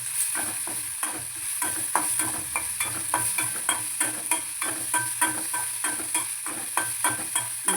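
Onions sautéing in oil for wheat upma, a constant close sizzle carrying a fast, regular rhythm of spatula strokes against the pan.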